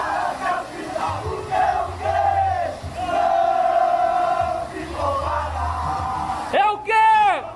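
Sampaio Correia football supporters in the stands chant, yell and whoop, a loud crowd roar with a rising shout that bursts out near the end.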